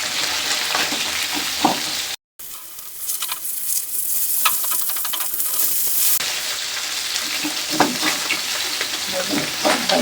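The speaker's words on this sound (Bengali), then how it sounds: "মাছ ভাজা হয়ে গেছে। এখন আমি নামিয়ে নেব।" Bele fish fry in hot oil in a pan for a Bengali fish curry, giving a loud, continuous sizzle with occasional stirring scrapes and a brief dropout partway through.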